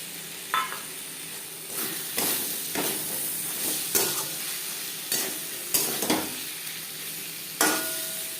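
Prawns fry in a spiced masala paste for a Bengali potato and cauliflower curry, with a steady low sizzle broken by about eight sharp scraping stirs of a spatula against the pan, fairly close and with no talking.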